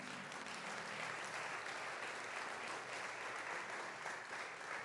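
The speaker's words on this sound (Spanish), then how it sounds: "Den un aplauso al Señor." A church congregation applauds, dense and sustained clapping that fills the whole stretch at an even, fairly loud level with no voices over it.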